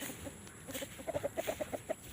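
A fighting rooster, a gamecock, clucks in a quick run of short, evenly spaced notes, fairly soft over a steady background hiss.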